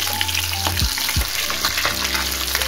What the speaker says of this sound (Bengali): মুড়োগুলো এবার আমি লাল লাল করে ভেজে নেব।